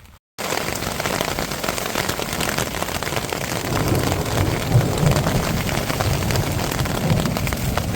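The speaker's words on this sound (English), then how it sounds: "if you can hear the thunder, you can get struck by lightning" Steady heavy rain drums on a surface through a mountain backcountry camping thunderstorm, with low thunder rumbling underneath throughout, loud and continuous after a brief quiet start.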